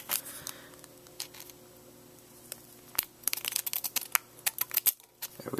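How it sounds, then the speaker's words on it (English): Scissors snip and tear open the wrapper of a Yu-Gi-Oh-style trading card pack from a Red Nova Dragon tin, with quiet rustling at first and then a run of sharp crinkly cuts and crackles close by. "Here, I got a pair of scissors right here."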